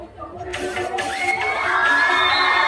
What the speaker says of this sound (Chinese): 掌声欢迎有五分的同学带来的精彩表演